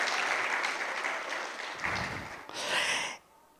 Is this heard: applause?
yes